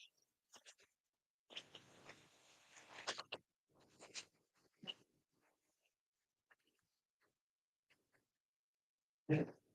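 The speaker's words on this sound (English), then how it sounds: "Let me shuffle your cards, Virgo." Tarot cards are shuffled by hand in a few close, dry bursts of riffling and shuffling, separated by quiet gaps, ending with one sharper handling sound.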